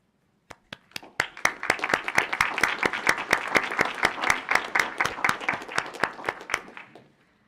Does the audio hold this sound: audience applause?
yes